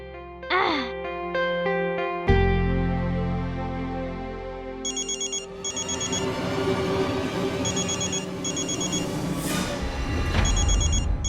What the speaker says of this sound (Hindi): मैं संजना चाची को फोन करता हूँ.